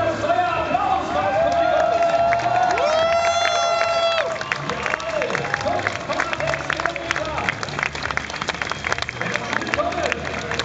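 Crowd cheering and applause at the finish line of a large corporate charity run, broad and continuous, with an amplified announcer's voice and whistling over the noise.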